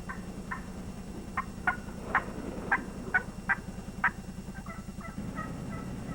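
Hunter's turkey call imitating a hen turkey, a series of sharp clucks and yelps in an uneven rhythm over a low steady hum, fairly close and clear.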